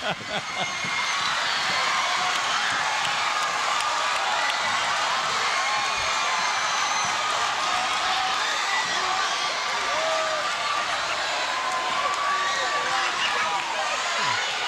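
Crowd noise fills a high school basketball gym during a Hampton Crabbers versus Phoebus Phantoms game, a steady dense roar of cheering and chatter that swells continuously while the Hampton cheerleaders perform.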